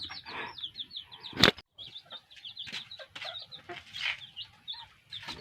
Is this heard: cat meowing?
no